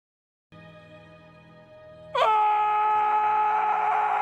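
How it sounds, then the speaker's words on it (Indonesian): A man screams very loudly in the 2018 film A Quiet Place: a quieter held tone gives way to a sudden, piercing, sustained scream that stays loud to the end. "kemudian berteriak sangat keras"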